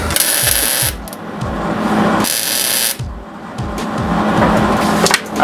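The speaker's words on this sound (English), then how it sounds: "Sorry about the welder noise" A welder tack welds an exhaust manifold pipe on a Starlet engine swap in a garage, producing loud crackling hissing bursts in two main stretches, interspersed with clanking and rattling noises.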